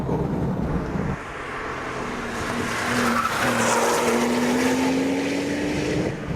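A twin-turbo supercar accelerates hard in fourth gear, its engine note rising steadily and loudly in a continuous pull that builds over several seconds, heard alone.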